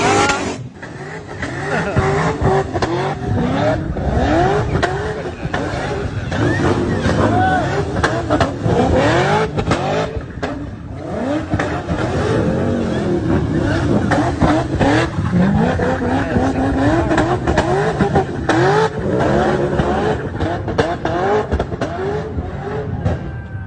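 Car engines rev hard and tyres squeal as cars skid around, loud and continuous throughout, with voices shouting and talking over the roar.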